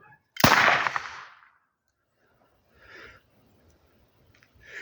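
A toy cork pistol fires one sharp, loud crack that snaps and fades within a second, followed by quiet and a few faint rustles, with no talk.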